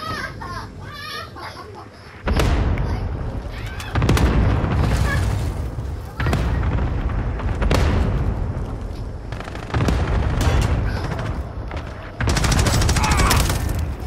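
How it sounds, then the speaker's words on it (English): Cluster strike explosions in Call of Duty: Modern Warfare, a series of about six loud, close, booming bursts landing every two seconds or so, each with a rolling tail, with voices and gunfire mixed in. "Allied cluster strike inbound."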